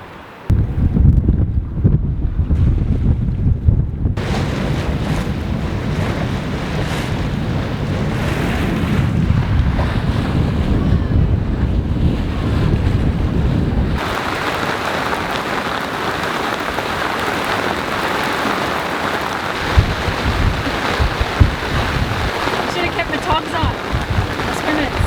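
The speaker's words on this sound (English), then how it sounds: "Looks like you'll have some good winds." Strong wind roars steadily across the microphone at sea while sailing in the West Indies, a continuous loud rush with water and hull noise beneath it.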